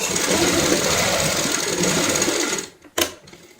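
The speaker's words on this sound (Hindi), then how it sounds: "एक पैर की चौड़ाई से यहाँ पे सिलाई लगाएंगे।" A sewing machine runs continuously as it stitches a cushion cover, loud and close, then stops near the end, followed by a single sharp click.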